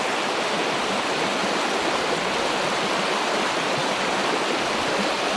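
A river runs through boggy, heathery ground and regenerating pine woodland on a winter day. It gives a steady, broadband rush of water that stays close and even, with no voices heard.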